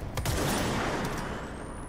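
Dense gunfire from shooting in the video game Control, a loud continuous burst of rapid shots and booms with no pause across the short stretch.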